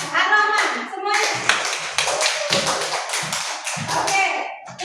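A classroom of schoolchildren gives a student group a burst of hand claps, with quick uneven slaps and taps that stay close and loud and are mixed with children's voices and chatter.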